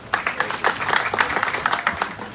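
A crowd at a blood donation foundation day ceremony in Rajasthan gives a short burst of applause, with distinct, fairly loud claps rippling unevenly throughout.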